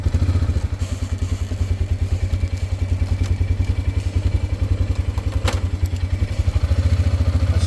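Motorcycle on a dirt trail behind a gun range, its engine pulsing in a steady close thumping rhythm with rattles and clatter from the rough ground.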